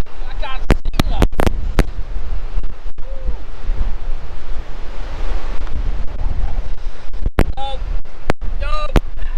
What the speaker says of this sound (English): it's a bit windy and a bit this cold.